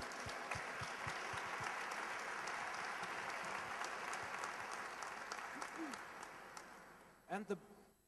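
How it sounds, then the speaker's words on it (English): An audience at an award ceremony gives sustained applause that slowly fades, ending in a few isolated claps and a brief voice near the close. "big applause for them"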